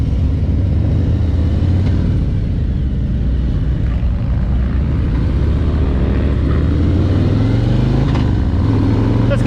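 A 2021 Harley-Davidson Road Glide Limited cruising in sixth gear, its deep steady engine rumble mixed with heavy wind buffeting, loud and continuous throughout.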